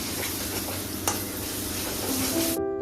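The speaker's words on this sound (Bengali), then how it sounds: "এই পেঁয়াজ সেখানে কষানো চলছে" Onions sauté in a pan before chicken goes in, a dense steady sizzle with one sharp clink of a utensil midway, ending abruptly as a faint tonal hum takes over.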